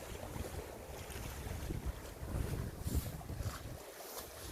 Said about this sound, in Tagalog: it's quite big waves. It's high tide and windy.